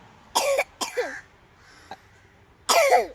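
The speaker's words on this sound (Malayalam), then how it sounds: "ചുമണ്ടോ?" A small child coughs in three separate harsh bursts, close and fairly loud, with quiet gaps between them.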